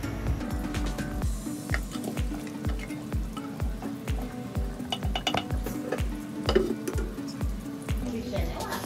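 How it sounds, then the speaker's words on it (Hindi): Semolina-coated fish shallow frying on a tawa in Goan style, with steady close sizzling mixed with repeated soft scraping and stirring clatter of a utensil against the pan. "ये देखिए, ये है हम शैलो फ्राई कर रहे हैं"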